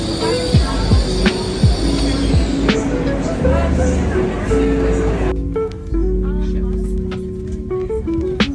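A train runs along the rails with a steady rumble, squealing wheels and rising and falling whines, close and loud inside the carriage; the tone shifts partway through as the ride continues.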